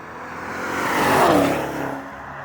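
A Maserati Levante GTS (Modena S) of 2021 with its engine in sport mode, a strong swelling roar that builds to a loud peak midway and then fades, like a fast pass-by, with no talk.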